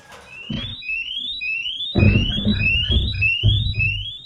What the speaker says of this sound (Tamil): அலாரம் ஒலித்த போதிலும் அயர்ந்து தூங்கும் ரித்விக் எழுந்திருக்கவில்லை